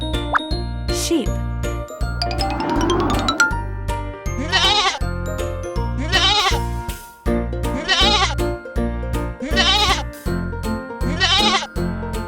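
A cartoon sheep bleats several times in wavering bursts, close and prominent, over a steady plinking children's music beat with a few plopping effects mixed in.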